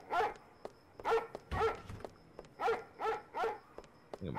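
A dog in the Roblox horror game Floors Have Teeth barks in a steady run of about seven sharp, evenly spaced woofs, moderately loud and free of speech.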